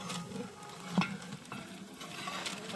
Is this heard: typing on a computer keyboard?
no